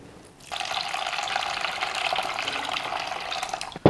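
Steady running water splashes into a bowl while washing cashew nuts, a continuous wet rush lasting several seconds with no voices.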